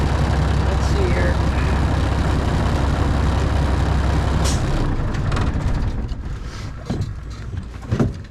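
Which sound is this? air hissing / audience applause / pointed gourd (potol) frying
air hissing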